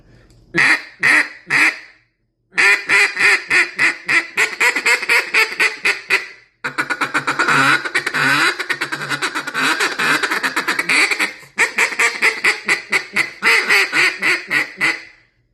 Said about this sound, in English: Distinct, very raspy, quacky sound.